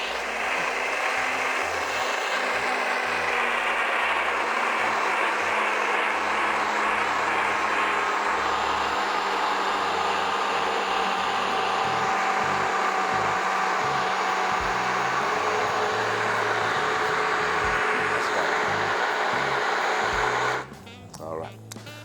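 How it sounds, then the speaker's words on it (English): A blender purees vichyssoise, a potato and leek soup, into a smooth consistency. The motor whirs loud and close, holding a constant high-pitched roar for about twenty seconds before cutting off. "you just want to puree this into a nice, smooth consistency"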